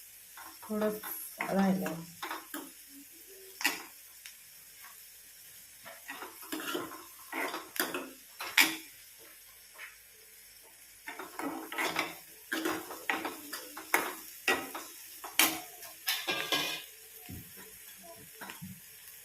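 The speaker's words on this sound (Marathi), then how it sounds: "कांदा मस्त थोडंसं लालसर होईपर्यंत आहे ना असं परतून घ्यायचं आहे." Onions being sautéed in a pan while making a Marathi-style wild bean (abai shenga) dish, with a spoon scraping and clattering against the cookware in irregular bursts over a faint sizzle, and a voice speaking briefly.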